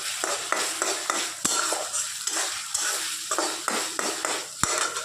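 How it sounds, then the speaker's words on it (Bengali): Spice masala fries in a pan for a chicken curry, a continuous hissing sizzle under frequent scraping strokes and sharp taps of a spoon on the pan, close up with no voices. "এখানে তারপরে মশলা কষাচ্ছি"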